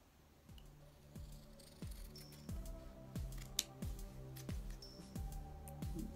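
Scissors trimming around the edges of a black card, a series of about nine crisp, evenly spaced snips, close and fairly quiet against a light background hiss.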